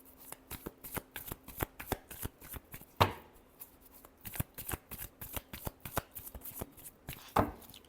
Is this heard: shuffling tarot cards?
yes